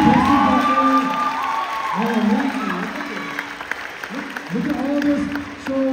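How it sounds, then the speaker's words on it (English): An audience at a high school dance competition applauds and cheers for the costumes, a steady wash of clapping and crowd noise running beneath an announcer's amplified voice. "we need to give a round of applause for the costumes"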